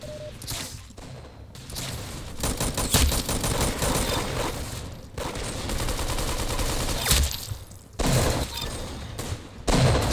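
Sustained automatic gunfire in the Roblox shooter Arsenal, loud crackling bursts running nearly the whole time with brief gaps between strings of shots and a few heavier thumps.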